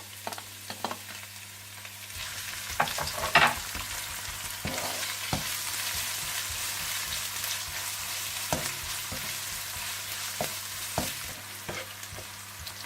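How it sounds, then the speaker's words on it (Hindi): Garlic and onions fry in a pan for chicken chow mein, with a steady sizzle and repeated clinks and scrapes of stirring. The cooking sounds are close up and continuous, with no talking. "और जैसे ही लहसुन थोड़ा सा भून जाए तो आप इसमें प्याज डालकर इन्हें भी आप थोड़ा सा भून लें।"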